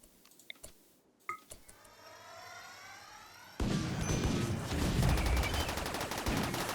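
Gunfire in the game Rimworld: a few sharp isolated shots, then a dense sustained volley of rapid fire that grows loud and continues to the end, with no talking.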